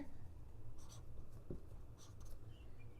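Handwriting during a chemistry lesson on gases: faint, close pen strokes scratch in short bursts with small taps, quiet and without speech.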